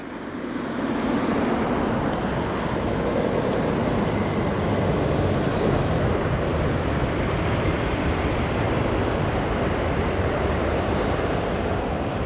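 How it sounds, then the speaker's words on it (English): A fast train rushes past near Basildon Park in Pangbourne, a steady, loud broadband roar holding for the whole stretch with wind buffeting the microphone and no break or fade. "we've got another train coming past, a fast one."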